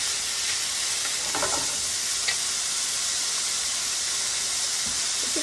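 Chicken and sausage fry in a pan for an Italian bow tie pasta, giving a steady, loud sizzle and hiss throughout with a few faint scrapes of stirring and no talking.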